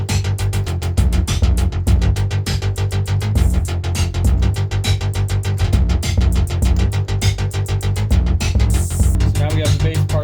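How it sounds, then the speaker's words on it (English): Synthesizer bass line being recorded onto a song through MIDI gear, a steady throbbing low pulse under a busy backing track with rapid rhythmic hits, loud and continuous throughout. "We'll record a bass part onto the song now."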